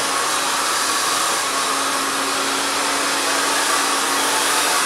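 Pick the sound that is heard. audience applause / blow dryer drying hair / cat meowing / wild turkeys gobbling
blow dryer drying hair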